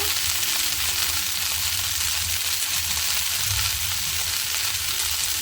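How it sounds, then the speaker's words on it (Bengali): Cauliflower florets fry in hot oil in a pan for katla fish curry, giving a dense, unbroken hiss and crackle with faint stirring underneath, close and steady throughout. "ফুলকপিগুলো একটু ভেজে নেব দেখতে থাকুন বন্ধুরা"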